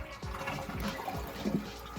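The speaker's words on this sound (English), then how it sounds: "Flush the water out." A toilet tank being flushed empty after the water valve was shut off, with a gurgling, swirling rush of water and bubbling drips, fairly close and without speech.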